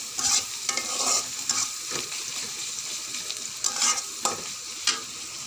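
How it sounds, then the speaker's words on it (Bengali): Shrimp fry in a pan with a steady sizzle while a utensil scrapes and stirs. The scrapes come at irregular intervals over several seconds, close and fairly loud. "ভাজাটা আমার প্রায় হয়ে গিয়েছে"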